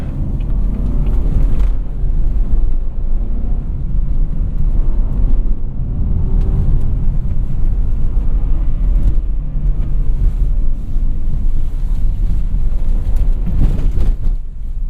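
A 2017 Volvo V60 Cross Country driving on a gravel road, heard from inside as a loud, steady low rumble of tyres and engine with scattered crunches and knocks from the loose surface.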